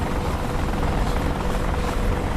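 Apache helicopter rotor in a flight simulator game during takeoff: a steady, loud, dense whir and roar of rotor and engine fills the whole stretch without letting up, with no voices over it.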